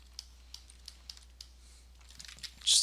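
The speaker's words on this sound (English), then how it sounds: "Then I'm just going to hit D on the keyboard for my dynamic subdivision." A single computer keyboard key, the D key, tapped during a ZBrush sculpting session: a handful of sparse, crisp, close clicks spaced unevenly, followed by a brief burst of brighter hiss at the end.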